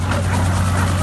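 A young working dog at a dog trials event gives brief vocal sounds over a loud, constant low droning hum that fills the whole moment.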